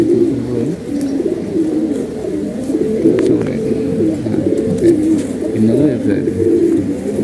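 Domestic pigeons kept as breeding pairs coo in low, rolling phrases that repeat steadily through the stretch, close by, with a voice talking over them at times.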